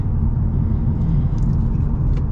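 A new VW Golf R Black Edition with DSG gearbox drones steadily from inside the cabin while driving, a loud continuous low engine rumble with no speech over it.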